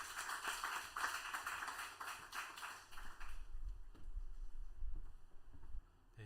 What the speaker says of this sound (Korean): 따뜻한 박수로 모시겠습니다.